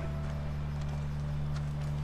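Horse hooves clip-clop faintly in The Last of Us, a few soft, sparse hoof strikes over a steady low background hum.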